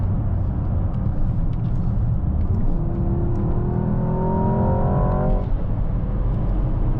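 A 2025 Mercedes-AMG S63 E Performance sedan cruises at around 110 km/h near 1,300 rpm, its engine a low rumble with a smooth rising whine that cuts out abruptly, under steady road noise.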